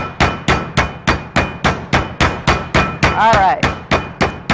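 A meat mallet pounding chicken breasts flat for stuffing with broccoli and cheddar, a steady run of about fifteen loud, close, heavy thuds at an even pace, with a brief spoken remark partway through.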